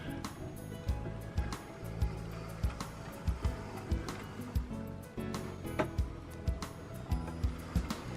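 A Hornby S15 model locomotive running on a newly fitted motor, giving off a faint, steady whir dotted with soft, regular ticking clicks.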